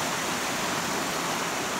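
A waterfall in the Jurutungo nature reserve pours in a steady, dense broadband roar, loud and continuous with no break and no voices over it.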